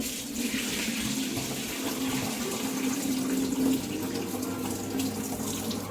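Steady running tap water splashes over soaked rice being rinsed in a kitchen sink, a continuous close rushing flow with no talk, as rice is washed for crispy anarsa.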